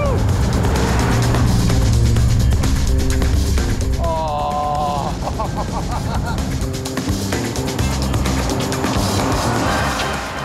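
A classic Bond car taking a corner at about 55 mph gives a steady, close engine rumble, with brief tonal chirps and other noises mixed in partway through.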